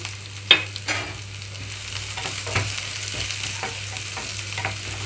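A steady low frying crackle of onions and green chillies in oil runs throughout, with scattered pops and a few scraping stirs in the pan, no talking.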